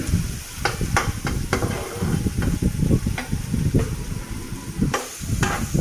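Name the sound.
fenugreek seeds frying in oil for koi fish curry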